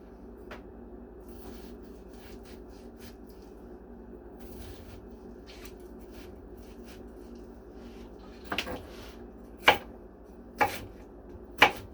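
A knife taps lightly on a cutting board while a quarter onion is finely minced, soft rapid chops ending in a few sharper, louder knocks near the end, with no talk.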